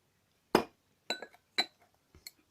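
A Harrogate glass water bottle clinks in a few separate light taps, sharp and close, spaced irregularly with brief quiet gaps between them.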